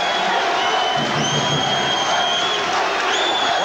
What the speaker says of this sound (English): We got the crowd in the game now.